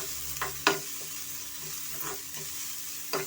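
Onion fries on a medium flame with a constant gentle sizzle, and a few sharp spatula scrapes and taps stand out clearly.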